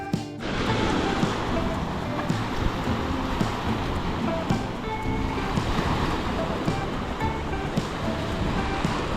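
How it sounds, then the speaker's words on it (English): Waves wash against the shore near Seward, Alaska, a steady, close surf roar with wind buffeting the microphone throughout, and no distinct voices over it. "hear the waves lapping up against the shore"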